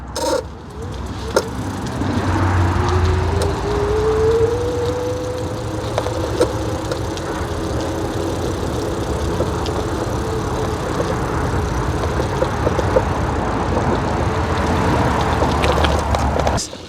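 A dual motor electric bike climbing uphill on its front motor only at about 10 mph, a steady drone with a whining motor tone that rises and then holds, loud and continuous throughout.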